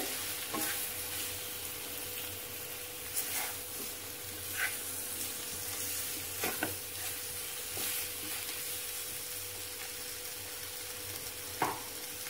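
Potatoes frying in a pan for a potato stir-fry, a steady quiet sizzle with soft intermittent scraping strokes from stirring, no talking.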